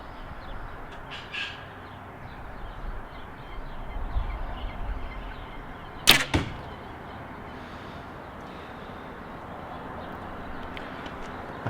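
Carbon target arrows with standard nocks being shot at a target outdoors, giving one sharp, loud impact-like snap near the middle over a steady quiet outdoor background with faint bird calls.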